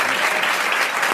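Studio audience on a 1991 French TV talk show bursts into brief, dense clapping, a short steady burst of applause with no voices over it.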